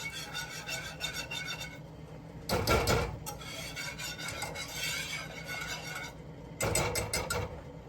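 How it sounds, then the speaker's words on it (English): Alfredo sauce being whisked in a pan on the stove makes rhythmic scraping and rasping strokes, with louder bursts of vigorous whisking between softer passes and no talking. "I'm just going to keep stirring and stirring. Sorry, whisking and whisking"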